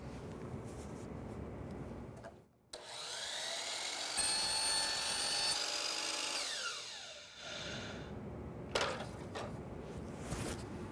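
A miter saw blade cuts a kerf line into wood, a steady loud whining cut of several seconds with a rising sweep as the blade spins down, set between quieter shop noise.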